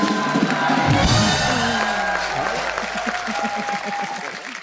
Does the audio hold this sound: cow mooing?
no